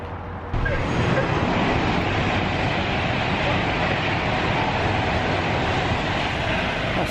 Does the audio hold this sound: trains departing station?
yes